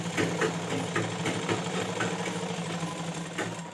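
A sewing machine runs steadily, stitching a line of fabric on an umbrella-style ghagra skirt with a continuous close mechanical whir and a fast rhythmic needle patter, with no talking.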